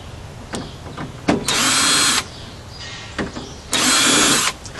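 A power drill backs Torx screws out of a TV base during scrapping, with two loud sustained whirring bursts and a few shorter blips and clicks between them, close up and with no talk.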